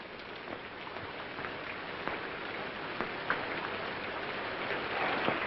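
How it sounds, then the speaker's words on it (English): Steady rain patters throughout, with scattered louder drops striking a surface, even and moderately close, no voices. "It's raining."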